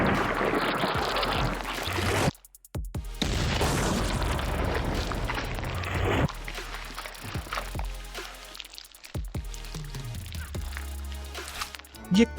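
Fruit gun fires citrus at glass: a loud burst of blast and spray noise, a sudden cut, another sustained burst, then scattered sharp impacts and clattering debris with a final thump near the end.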